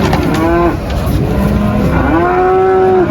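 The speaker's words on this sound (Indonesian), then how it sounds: "2 ekor sapi jumbo" Two large female Limousin cattle moo loudly and nearby, two long low calls in a row over a noisy outdoor background at a cattle market.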